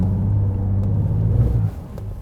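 A Ford Raptor truck engine in four-wheel drive revs with a deep, loud rumble that holds steady and then eases off near the end.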